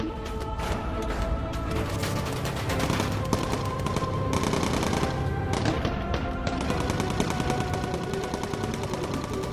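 Bomber machine gun fire in the video game Bomber Crew, a dense continuous rattle of rapid shots lasting the whole stretch, loud and busy with short breaks and crashing hits mixed in.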